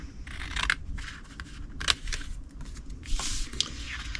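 Scissors snip along a score line through paper or card in a series of short, close cuts of uneven rhythm, with soft handling rustle between them.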